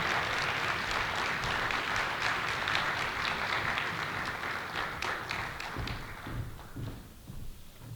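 An audience applauds to welcome a lecturer before a talk on evolution and biodiversity on islands, with steady clapping from a crowd that gradually thins and fades out.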